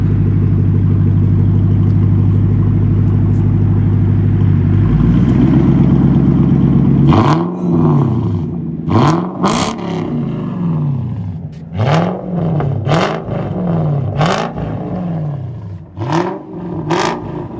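A 1998 Lexus GS 400 V8 with true dual exhaust, straight pipes and an X-pipe idles loudly, then snaps through a series of sharp, repeated throttle blips, each rising and falling rev rising above a throbbing low rumble, close and alone.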